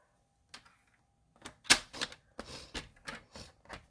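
A paper trimmer slices through a strip of cardstock with a short burst of quick, close scraping and clicking strokes after a quiet pause.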